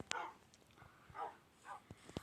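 Several dogs at a village house bark in short bursts with a few whimpers and yips, fairly near and moderately loud, with brief gaps between calls and no talk.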